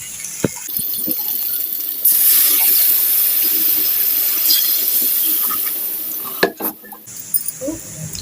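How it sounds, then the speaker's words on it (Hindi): Loud hissing sizzle as water is poured into frying potato masala in a pan, a sudden burst of steam that holds steady, then settles into scattered clinks and quieter bubbling. "अब इसमें हम पानी ऐड कर देंगे।"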